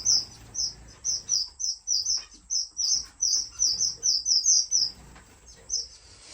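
Rapid, high-pitched chirps from small finches repeat in quick bursts over about six seconds, fairly close, with faint background noise.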